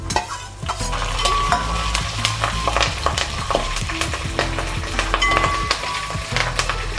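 Curry leaves and red chillies sizzle as they hit hot oil with browned onions, a steady loud frying hiss broken by repeated stirring scrapes and clinks, with no talking.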